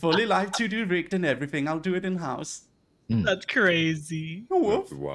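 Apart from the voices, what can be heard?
No distinct noise like a dog, phone or traffic.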